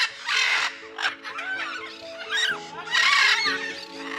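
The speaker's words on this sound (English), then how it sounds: "the first sound that breaks the stillness is the song of a bird" Birds call at dawn in still, cold air: several clear, fairly close chirps and whistled phrases with pauses between them, standing alone in an otherwise quiet setting.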